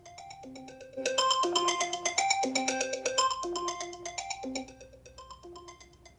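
An iPhone 14 plays a ringtone preview, a chiming melodic phrase of bright bell-like notes that swells louder partway through as the volume is raised, then fades back down.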